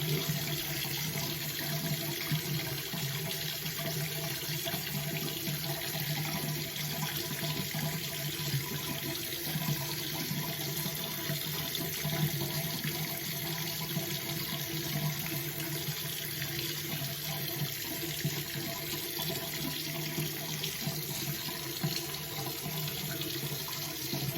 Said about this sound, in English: Now I'm running my hot water